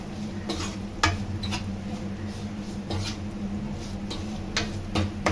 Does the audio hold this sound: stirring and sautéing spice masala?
yes